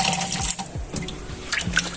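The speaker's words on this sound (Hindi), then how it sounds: "इस स्पंज में इसका पानी को एब्सॉर्ब करके इसमें निकाल ले रहे हैं।" Water squelching and dripping as a sponge soaks up the last of the water from an emptied aquarium, with soft wet gurgles and splashy bursts close by, no talk.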